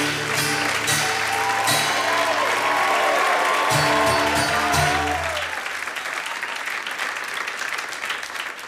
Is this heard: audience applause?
yes